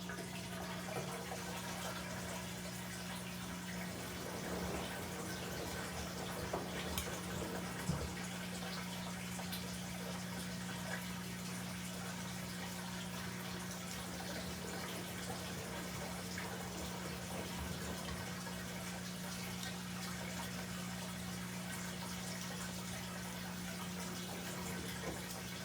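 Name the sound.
LG WM3770HVA washing machine draining water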